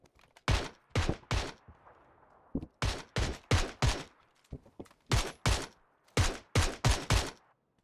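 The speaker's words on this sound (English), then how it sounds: "all those shots coming from fucking Palace" Gunfire in PUBG rings out in clusters of sharp, loud cracks, two to four shots per burst separated by short pauses, each with a brief echoing tail.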